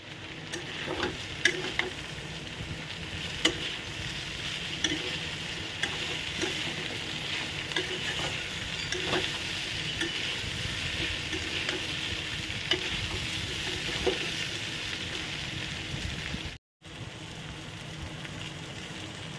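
Teasel gourd pieces with a little potato and fish are stir-fried in a pan, a steady soft sizzle with occasional scraping stirs and small pops throughout, no talking, with a brief dropout near the end.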